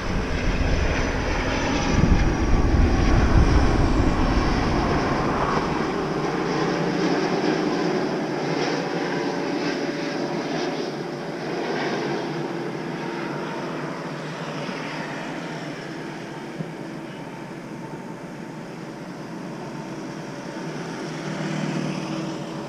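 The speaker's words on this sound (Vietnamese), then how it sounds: "Chiếc máy bay đang bay qua cánh đồng vừa mới cấy để hạ cánh xuống sân bay Nội Bài." An Oman Air Airbus A330 passes low over freshly planted rice fields on its approach to land at Noi Bai airport, a loud, steady jet engine roar that swells early and then drones on continuously without any voices.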